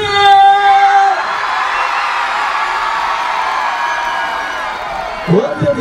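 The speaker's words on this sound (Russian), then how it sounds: "Кричим громко, шумим громко, хлопаем в ладоши тоже громко" A concert crowd roars in a dense, loud wash of shouting, cheering and clapping that swells after a voice on stage calls out, holding steady for several seconds.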